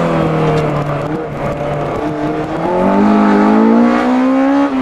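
A Lotus S1 with a Honda K20a engine takes a tight second-gear corner on a private farm road. The engine drones steadily, dips as it goes into the bend, then rises in pitch as it accelerates out, loud and close, with no talk.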